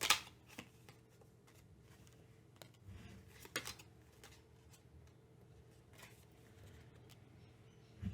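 Tarot cards are shuffled by hand in a quiet room, soft papery riffles and taps coming in scattered bursts, with a sharper snap at the start and end.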